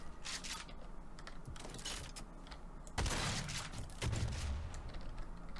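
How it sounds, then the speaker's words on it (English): Combat shotgun blasts in Garry's Mod, a run of sharp shots with mechanical creaks and clacks between them, the heaviest bursts near the middle and later, with no talk over them. "Combat shotgun."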